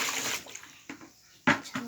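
Water splashing and pouring in short bursts while a young daughter is bathed indoors, using water that has turned cold, with a couple of louder sloshes near the end; close and moderately loud.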